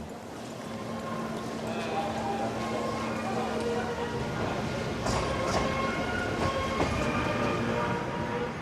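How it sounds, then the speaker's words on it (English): A passenger train pulls out of Chongqing station, bound for Guiyang, with steady rolling rumble and rhythmic wheel clatter, while martial music plays and a voice talks over it. "the 9:30 for Guiyang pulls out dead on time"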